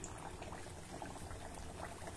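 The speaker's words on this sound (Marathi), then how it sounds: "थोडं मध्यम गरम झालं की यामध्ये कचोऱ्या घालूया" Kachoris frying in medium-hot oil: a steady, soft bubbling sizzle, continuous and fairly quiet, with no voices.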